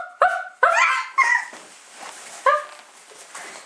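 A 17-month-old toddler imitates a dog's woof with about four short, yelping barks in an uneven rhythm, close and fairly loud, with quiet gaps between them.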